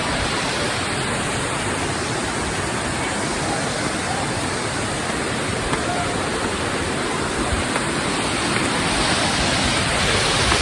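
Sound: Kuntala waterfall water flowing

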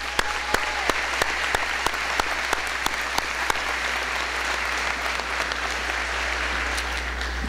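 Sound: applause for parents at graduation ceremony

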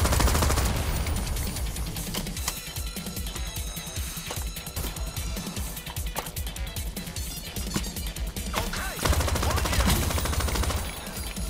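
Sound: gunfire in the video game Crime Boss Rockay City

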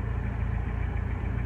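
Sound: car engine idling while parking

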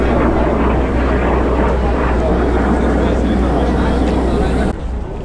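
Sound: aircraft at MAKS 2015 airshow

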